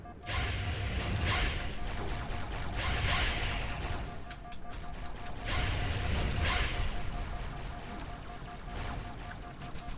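Halo 2 weapon reload in game combat: repeated mechanical clicks and clacks of a magazine swap sit among bursts of gunfire and whooshing effects, loud and busy from start to finish.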